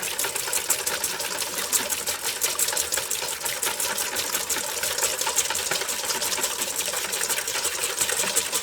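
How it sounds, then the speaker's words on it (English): Egg whites whipped by hand with a whisk in a bowl for a flourless pecan cake: a fast, steady, even clicking and rattling of wire against the bowl, close and continuous, with no talk over it. "All right, so I'm whisking. You are whisking."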